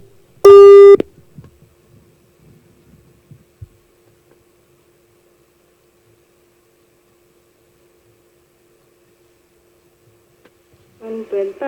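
A steady telephone line tone on a call to a Thai radio program hums alone for several seconds between a loud opening beep and voices returning at the end.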